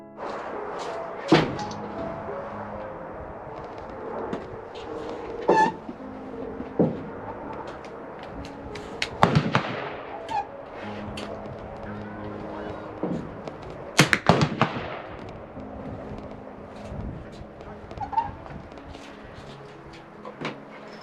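A Hatsan Flash .22 air rifle with an upgraded barrel fires pellets outdoors, sharp cracks spaced several seconds apart, with clicks and handling noise between shots and no talking.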